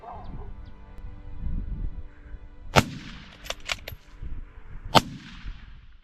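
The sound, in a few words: rifle gunshot at a baboon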